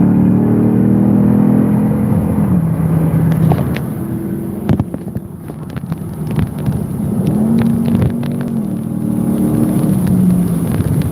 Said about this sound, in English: That sounded nice, that Hellcat that just flew by.